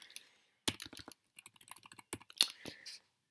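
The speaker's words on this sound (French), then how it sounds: "on le tape à la calculatrice" Rapid taps on calculator keys, a quick run of short sharp clicks in two bursts, close and fairly quiet, with no voice over them.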